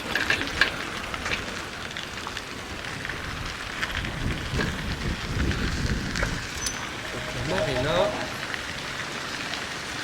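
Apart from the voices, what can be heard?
rain falling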